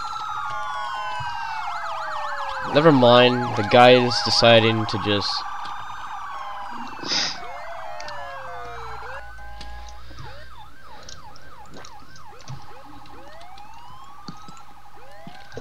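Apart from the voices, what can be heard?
ambulance siren in a video game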